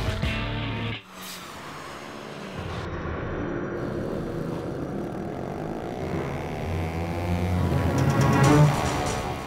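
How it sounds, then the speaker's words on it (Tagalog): Car engines roar at night along Commonwealth Avenue during illegal street racing, a loud rumbling pass that swells and builds toward the end after an abrupt cut near the start. "Ang katahimikan binabasag ng ingay mula sa mga nagngangalit na tunog ng makina ng kotse."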